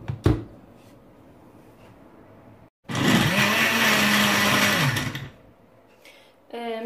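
A blender grinds a juice of nuts and dried fruit, a loud steady whir running about two seconds after a quiet start and cutting out before a short rattle at the end.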